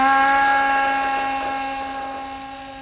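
A model aircraft's small engine screams at high, steady pitch as the plane takes off, the sharp whine slowly fading as it pulls away and climbs.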